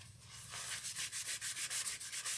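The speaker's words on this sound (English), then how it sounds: "And we'll just rub it in because it's still quite runny." A runny coating rubbed by hand into a gingerbread door hanger, giving a rhythmic series of close, dry scrubbing strokes that repeat steadily with no voices.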